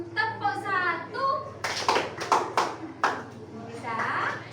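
A class plays a clapping game, with several sharp bursts of hand claps in a row between a teacher's spoken instructions.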